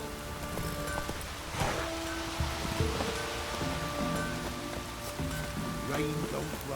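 Rain falls in The Witcher 3: Wild Hunt, a steady hiss of drops pattering on surfaces, mixed with soft game music tones and occasional thuds.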